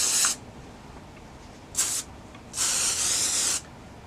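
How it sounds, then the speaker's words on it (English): An aerosol can of hairspray hisses in three bursts onto hair: a short one, another short one, then a longer steady spray, with quiet pauses between. "So now I'm just going to spray it."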